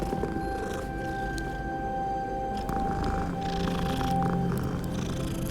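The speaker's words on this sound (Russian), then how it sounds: "Кошечка." A cat purrs in the video game Hogwarts Legacy, a steady low rumble running continuously under ambient game sound and music, with no talk.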